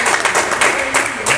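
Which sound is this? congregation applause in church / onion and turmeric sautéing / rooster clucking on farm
congregation applause in church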